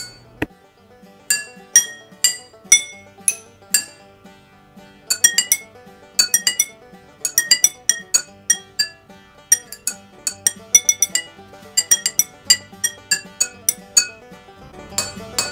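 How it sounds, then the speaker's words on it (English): A metal spoon taps a row of water-filled glasses played as a water xylophone, bright ringing clinks of varying pitch in quick melodic runs and single notes, close and clear with short decaying tones. "Try using the spoon to tap different parts of the glass and see how that affects the sound."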